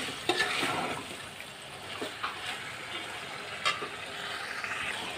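Chicken and potato curry being sautéed in a pan, with a soft continuous sizzle broken by a few sharp scraping clicks of stirring and no one talking.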